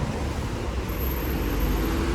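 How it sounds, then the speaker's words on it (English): Steady roadway rumble of trucks and other traffic rolling along a street in Frankfurt, Sachsenhausen, near skyscraper construction, a continuous broadband wash without clear gaps or voices. "Lots of trucks going through here because they are building new skyscrapers in Frankfurt."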